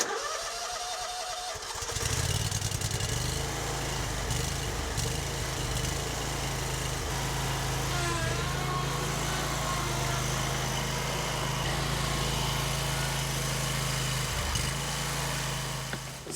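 Lawn mower engine cranking to life after a brief quiet start, then running at a steady loud idle with a few small fluctuations, no talk.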